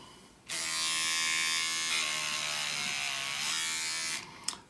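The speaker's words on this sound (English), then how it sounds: "And there's a sander with 180 grit sandpaper on it." A small homemade micro electric sander fitted with 180 grit sandpaper runs with a steady, close, high-pitched buzzing whine for about four seconds, starting abruptly and stopping near the end, with no talk.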